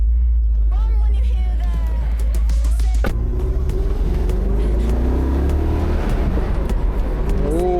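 A naturally aspirated BMW M5 E39 engine drones loudly and rises in pitch as it accelerates, a steady close rumble throughout with a voice speaking over it.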